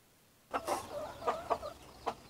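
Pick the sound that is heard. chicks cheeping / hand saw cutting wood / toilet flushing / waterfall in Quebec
chicks cheeping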